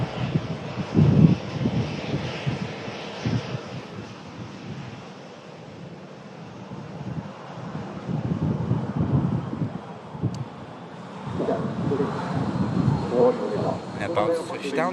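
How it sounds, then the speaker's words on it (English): A Virgin Atlantic Airbus A330 departs Manchester Airport for New York JFK, its jet engines a broad, steady roar with wind-like rushing that swells and fades over the whole stretch, with voices faintly underneath. "Now on the way out, GUFO, Virgin Atlantic A330"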